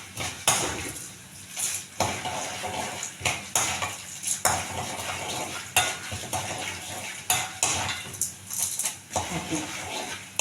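Urad dal roasting in a pan, stirred with a spatula in quick repeated scrapes and clinks over a soft dry sizzle, close and steady, with occasional talking.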